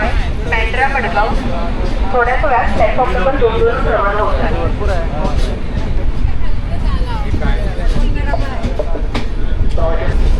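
The Netravati Express on the Konkan Railway rumbles steadily along the tracks at about 70-75 km/h, with a continuous low roar and rattling, while people talk loudly throughout.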